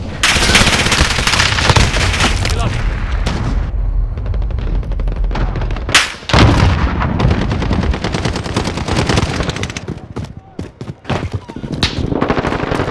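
Call of Duty: Modern Warfare team deathmatch gunfire, loud rapid automatic bursts and single shots crackling close by, with a sharp bang midway and shouted callouts over the shooting.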